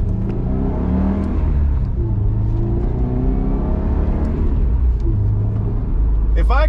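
A manual stick-shift car pulls away in first gear at a green light, its engine droning low and steady with a rising rev throughout while a person talks over it.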